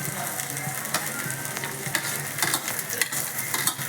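Vegetables stir-fry loudly for Manchurian as chilli and carrots go in, giving a continuous close sizzle with quick stirring clinks and spatula taps throughout.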